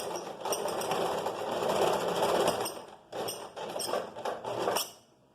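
A sewing machine stitches and backstitches a seam near the waistband of a flared skirt, a close rapid mechanical whirr that runs, pauses briefly, then resumes before winding down.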